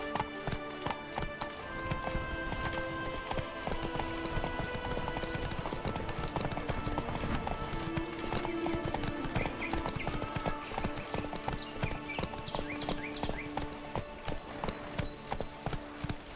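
Roach, a horse in the Witcher 3 video game, gallops with steady, rapid clip-clop hoofbeats and an occasional whinny, set over continuous game music and ambience.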